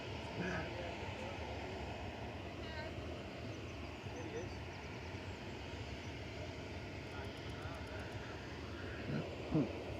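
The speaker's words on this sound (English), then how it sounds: "Here's the Qatar taxiing out, just coming off the Terminal 2 apron." A Qatar Airways jet taxis at Manchester Airport, its engine rumble a steady, distant low drone, with people talking throughout.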